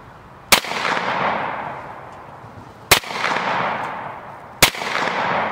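Three loud, sharp outdoor gunshots from a 10mm pistol loaded with RIP ammunition, fired at a motorcycle helmet, irregularly spaced over a few seconds, each followed by a broad rushing echo that fades.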